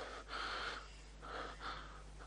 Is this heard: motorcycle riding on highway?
no